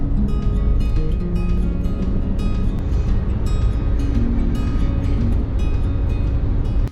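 A van on the road gives a steady, loud rumble of engine and road noise from inside the cabin, continuous throughout with no break.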